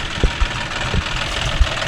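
A John Deere 5045D 4WD tractor engine runs steadily with a low, rumbling idle-like drone and a few soft knocks, heard up close and without talk.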